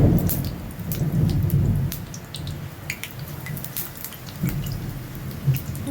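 Battered topse fish pieces are lowered one by one into hot oil in a kadai, giving a dense, steady crackling sizzle with a soft low rumble underneath and no voices.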